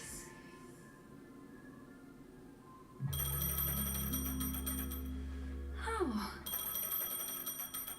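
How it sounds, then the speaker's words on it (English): A phone rings inside the video game Honkai Star Rail, a sudden layered electronic ringtone bursting in after a quiet stretch and continuing loudly, with a brief voice exclamation in the middle. "A phone."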